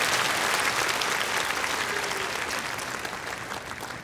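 An audience at a bolero concert applauds, a dense sustained clapping that fades slightly toward the end.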